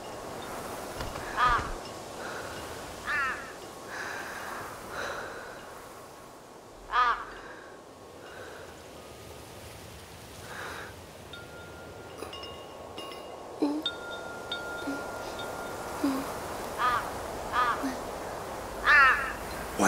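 Raven cawing in short bursts near an ancient tree on a mountaintop, with several calls spaced across the scene, moderately close, over a soft background hush.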